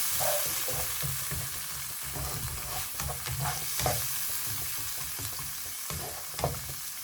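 Blended canned tomato added to a hot pan for butter chicken, crackling sizzle with repeated spoon scrapes and stirring knocks up close, no talking.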